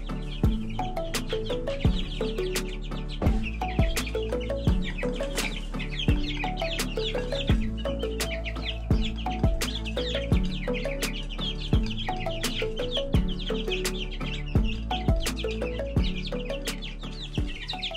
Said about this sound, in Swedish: den här videon handlar om mina kycklingar